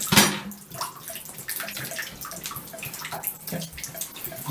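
Water runs and gurgles steadily as a slow-draining bathtub empties, with scattered splashes and drips close by.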